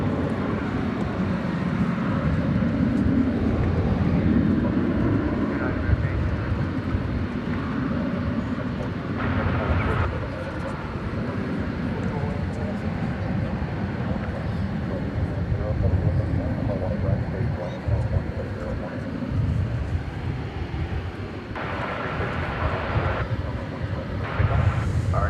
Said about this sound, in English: that aircraft just coming in for a landing, Flight 1467 from Puerto Vallarta in Mexico